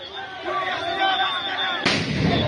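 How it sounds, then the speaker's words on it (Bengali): Sound grenades burst one after another at a street protest, with a sharp loud blast near the end over a steady roar of crowd noise. "এবং আবারও একের পর এক সাউন্ড গ্রেনেড ছোড়া হচ্ছে।"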